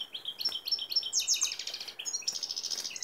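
A hand-reared canary gives rapid, high, bright chirps in quick trilled bursts, fairly close and clear, with short gaps between the phrases.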